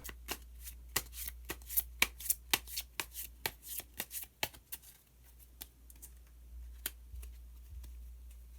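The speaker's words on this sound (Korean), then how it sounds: "그러면은 히든 카드를 한 장 더 뽑아보도록 하겠습니다" Tarot cards being shuffled by hand, a run of sharp, rapid riffling flicks close up that slows and thins out toward the end, with no voices.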